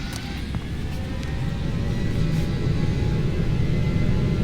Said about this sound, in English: This plane makes a lovely sound on takeoff.